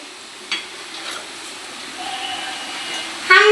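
Boiled bafle, a Marathi village dish, fry in hot oil with a steady, fairly loud sizzle and hiss that carries on throughout, plus a couple of small knocks and a brief clatter near the end.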